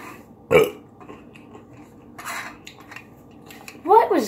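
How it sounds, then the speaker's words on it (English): A short burp from a man after eating dill pickles, one brief croak near the start, then clinking cutlery and dishes and another throaty burst at the end, close and fairly loud. "That burp was weak."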